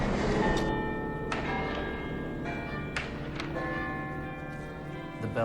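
Church bell chimes ringing from the top of the UT Tower at the University of Texas, several loud strikes with long ringing overtones overlapping in a slow, steady sequence.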